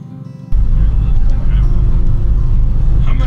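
A Chevrolet Blazer with a manual clutch starts moving, and a loud, steady low engine and road rumble comes in abruptly and holds close, with a voice speaking over it.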